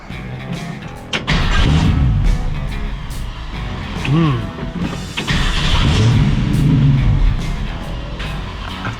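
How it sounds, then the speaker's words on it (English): A 1965 Ford Mustang restomod engine runs at a rough, uneven idle with a few blips and revs, close and steady throughout, with a possible choke problem. "Let it run for a little bit and find a decent idle."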